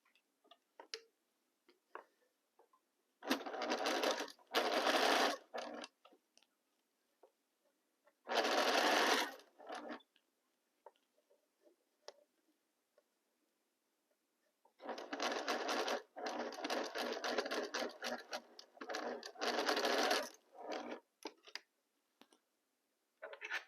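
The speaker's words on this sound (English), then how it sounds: "we are going to sew all four in the same direction" Sewing machine stitching four quilt pieces for an attic window block, running in three bursts of steady rapid whirring with quiet pauses between, close and clear with no talk.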